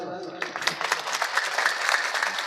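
Men in an audience at a devotional kirtan gathering clapping hands, a dense burst of applause that builds quickly and stays lively, mixed with crowd voices.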